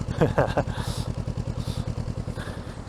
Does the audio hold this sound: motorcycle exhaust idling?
yes